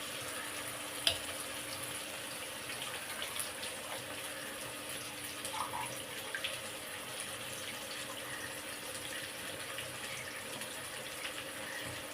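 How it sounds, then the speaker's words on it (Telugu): Amaranth leaves fried in a pan for a curry make a continuous even sizzle and hiss that fills the stretch, with one brief clack near the start, close and steady, without talk. "ఇది వేగింది ఇప్పుడు తోటకూర వేసుకుందాం"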